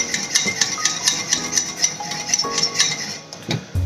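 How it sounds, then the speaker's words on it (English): Whisk rattling against a bowl while stevia and vanilla extract are beaten into a crème brûlée mixture, quick rhythmic metallic scrapes and clinks repeating at close range. "whisk them up a little bit"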